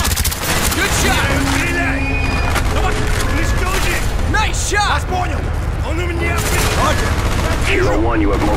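Gunfire in the Call of Duty Black Ops video game: continuous loud bursts of automatic fire and booms fill the scene, with shouted voices of soldiers over the battle.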